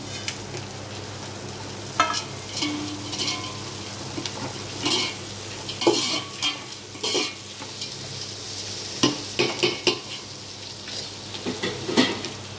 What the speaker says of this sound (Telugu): ఇప్పుడు హోల్ గరం మసాలా వేస్తున్నాను మొత్తము